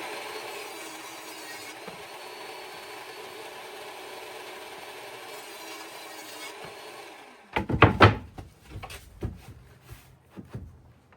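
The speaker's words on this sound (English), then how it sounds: "I'm cutting 2 sheets of 1/2-inch plywood to make a 1-inch thick top" A power saw hums steadily before cutting into half-inch plywood sheets, breaking into a louder burst of sawing and clattering wood near the end.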